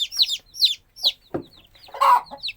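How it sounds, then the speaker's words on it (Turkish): Young chicks peep and cluck in short, bright bursts while pecking at boiled egg, close and clear, with brief pauses between calls. "Yumurta yiyorlar civciler."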